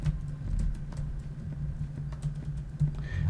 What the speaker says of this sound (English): I'm going to just type in the word sketchbook.